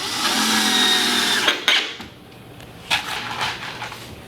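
A power drill drives long screws into a Rockwood Kitchens wall pantry cabinet, with a loud whirring run that cuts off sharply, followed by a couple of shorter, quieter bursts and knocks.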